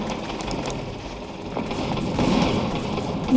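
Shotgun fire in a first-person shooter video game, a dense mid-range clatter of shots and battle noise that swells toward the end, with no talking.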